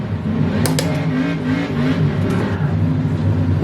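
Metalmoro P1 LMP race car engine in the Automobilista 2 racing game, a loud continuous whining drone with pitch shifts as it revs through gears, steady and unbroken.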